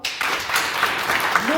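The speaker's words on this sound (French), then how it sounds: "Et vous pouvez applaudir ce soir pour vous dans leur ordre d'apparition" An audience at an evening reading event claps steadily, the broadband patter rising after a brief quiet start, while a voice speaks over the applause toward the end.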